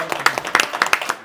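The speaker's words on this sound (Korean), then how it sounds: "참석자들이 다 같이 한번 박수 한번 보내주시면 어떨까" Attendees at a meeting on small business policy clapping together, a brief burst of distinct, closely miked claps in an irregular rhythm lasting about a second.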